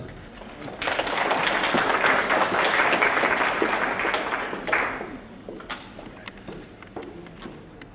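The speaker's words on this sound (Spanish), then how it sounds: "Lo recibimos con un fuerte aplauso" Seminar audience in a hall gives a strong round of applause to welcome a speaker, dense clapping swelling after a second, holding steadily, then thinning into scattered claps and room noise.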